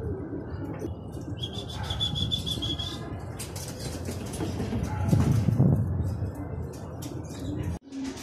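Racing pigeons arrive at a loft during a training release, with bursts of wing flapping as birds land, faint coos and chirps over steady outdoor background noise.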